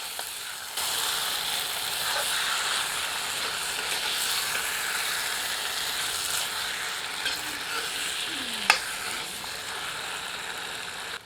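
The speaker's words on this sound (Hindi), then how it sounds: "3 से 4 मिनट तीव्र आंच पर भूनने के उपरांत आंच मध्यम कर लें" Mutton for an Odia-style mutton aloo jhol frying in a pan over high heat, producing a dense continuous sizzle with one sharp clack near the end, close and steady, with no speech.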